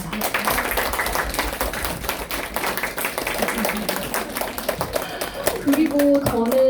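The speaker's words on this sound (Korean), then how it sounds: "그런 전유정 작가님에게 뜨거운 박수 부탁드리겠습니다" Audience applause at a book launch lecture for an author, a dense, steady clatter of many hands clapping throughout, with a few voices and a brief tonal sound near the end.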